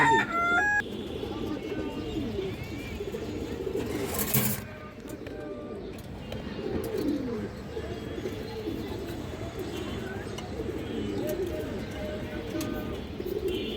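Bengali pigeons at a seller's stall, including a Beji female, make soft, steady cooing that goes on throughout, set against busy background noise with a brief loud burst partway through.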